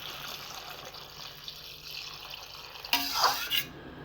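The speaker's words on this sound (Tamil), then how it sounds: "இப்போ இதில் தண்ணி ஊற்றிக்கலாங்க." Water is poured into a cooking pot of broad beans in a short burst near the end, a bright splashing gush that stops abruptly after a quiet stretch of faint kitchen background.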